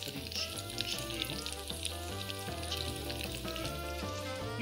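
Food for carbonara sizzles and crackles steadily as it fries in a pan, a dense, continuous hiss holding close and even throughout with no talking.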